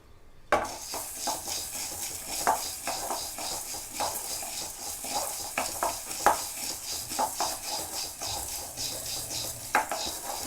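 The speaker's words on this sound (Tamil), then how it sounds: "இப்போ நம்ம துவரம்பருப்பை ஃப்ரை பண்ண போகிறோம் ஃப்ரெண்ட்ஸ்." Toor dal and a small piece of asafoetida are dry-fried and stirred in a pan, with repeated clinks and scrapes of a spoon against the metal over a faint, low sizzle, close up and without talk.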